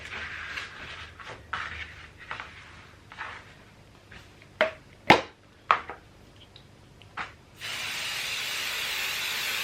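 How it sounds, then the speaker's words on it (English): Spray adhesive from an aerosol can hitting a quilt top, a run of short hissing bursts with some sharper clicks, then a longer continuous spray at the end, close and unaccompanied by speech. "and then spray some on there"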